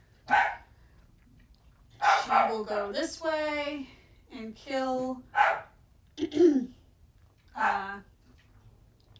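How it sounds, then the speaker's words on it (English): Dogs barking in short bursts in the background while a person talks over them during a tabletop board game session of Final Girl. "Sorry about the dogs."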